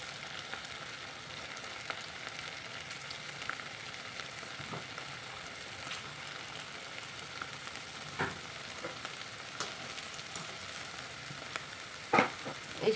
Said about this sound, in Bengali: আর একে একে আমি সবগুলো সিঙ্গারা এখানে তেলের মধ্যে দিয়ে দিলাম, দিয়ে ভেজে নেব